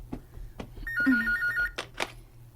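A telephone rings with an incoming call, a warbling electronic bell pattern lasting about a second, close and loud, amid brief background noises.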